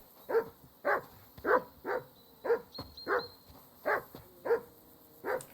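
A dog in the medieval video game Kingdom Come: Deliverance II barks and whimpers in about nine evenly spaced, fairly loud yelps at close range, with no talk over them.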